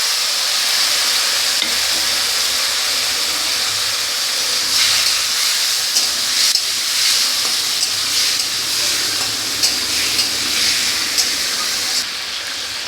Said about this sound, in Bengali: এবার এই যে ভেজে রাখা আলু আর ঝিঙেটা দিয়ে দেবো।